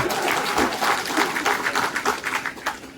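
A crowd at an outdoor workplace-safety assembly applauds loudly for three seconds, dense overlapping claps with uneven swells and no voices over them.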